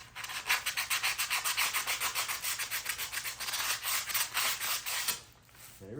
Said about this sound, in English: So we'll just hit that with some sandpaper quick.